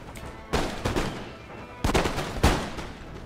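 Musket volleys from regular infantry in the Empire: Total War video game, several sharp, loud crackling bursts of gunfire in quick succession, arriving in two clusters with brief quieter gaps of battlefield noise between them.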